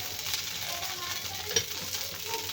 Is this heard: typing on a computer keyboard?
no